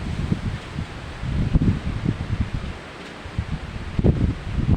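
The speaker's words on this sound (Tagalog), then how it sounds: "Grabe nakasingit ng hangin." Strong typhoon wind roars steadily through trees, with gusty rustling of leaves and branches surging and easing, close and loud, with no voices.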